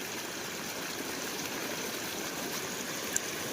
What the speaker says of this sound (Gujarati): સતત પાણી નીકળે છે